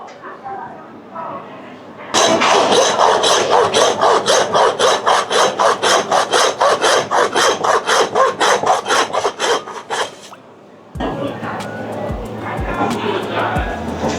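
Dry aged Wagyu beef is cut through at a Borough Market butchery as the sirloin comes off, with dozens of close, rhythmic back-and-forth sawing strokes, a brief pause, then a few shorter cuts.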